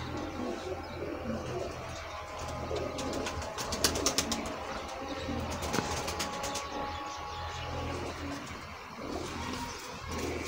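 Sialkoti red pearl pigeons coo softly amid a steady background hum, with a burst of clattering clicks and flutter around the middle, the calls low and continuous rather than loud.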